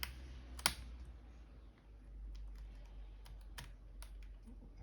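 Typing on the keyboard of a Dell Latitude E7440 laptop, a worn unit due for replacement: quiet, irregular key clicks with a few sharper taps over a low steady hum, close to the microphone.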